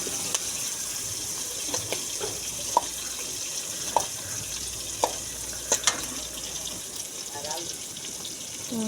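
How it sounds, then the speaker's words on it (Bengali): Shrimp and a few green chilies frying in a pan, with a steady soft sizzle and scattered small pops and clicks of stirring and spattering throughout. "6-7টা চিংড়ি মাছ আর কয়েকটা কাঁচামরিচ দিয়ে একটু ভেজে নেব।"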